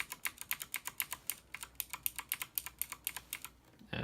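Kailh Box White keyboard switch with keycap on being typed, a quick run of crisp, clicky keystrokes in an uneven rhythm, close and fairly quiet, with a brief pause near the end.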